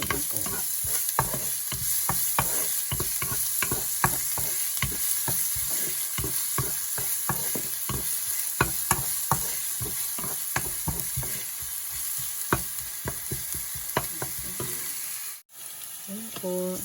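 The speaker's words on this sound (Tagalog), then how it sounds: "then lagyan natin yung sibuyas. Ayan po. Halo-halo din po." Chopped onions sizzle in a hot pan for homemade lasagne, stirred with a utensil that scrapes and clacks at a steady rhythm over continuous frying hiss. The sound is close and moderately loud, with no talking.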